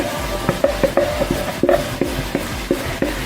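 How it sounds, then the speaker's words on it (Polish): Bell pepper and onion fry in a pan for a homemade sweet-and-sour sauce. A soft sizzle runs throughout, with regular stirring scrapes and light taps against the pan. "Teraz wrzucam tutaj całą paprykę do tej cebuli."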